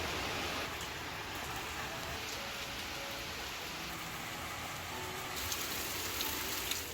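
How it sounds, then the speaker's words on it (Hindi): Steady rain falling outdoors in a hillside village in the Pahadi mountains, a continuous even hiss of drops on surfaces with no talk over it. "ये लो जी, फिर से शुरू होगी बारिश।"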